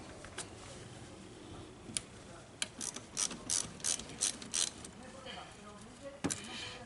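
Ratchet clicking in short bursts while loosening the negative battery cable on a 2016 Hyundai Accent, near and sharp, with a pause and one last click near the end over a steady background hiss.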